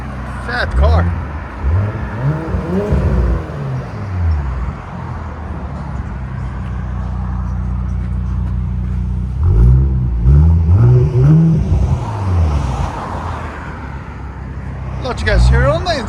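A 2017 Audi S7 with a 4.0-liter twin-turbo V8 revs in two loud bursts near the start and around the middle, settling to a steady idle between them and flaring up again at the end.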